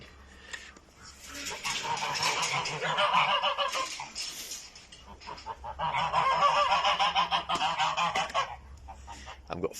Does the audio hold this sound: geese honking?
yes